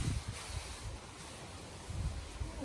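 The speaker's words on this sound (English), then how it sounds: "It's a very windy morning here." Faint wind gusts rush and buffet against the microphone, rising and falling in low rumbling swells.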